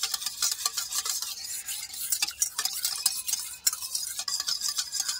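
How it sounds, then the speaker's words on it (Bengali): A spoon stirs sour yogurt thinned with water in a bowl, making quick, rhythmic wet scraping and clinking strokes, close and fairly loud, with no voices. "জলটা দিয়েও একটু দইয়ের সঙ্গে ভালো মতো মিশিয়ে নেব।"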